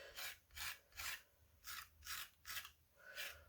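Hand scraping of knitted fabric, heard as rhythmic rasping strokes repeating about every half second, soft and close, each stroke a brief scratchy swell with quiet gaps between.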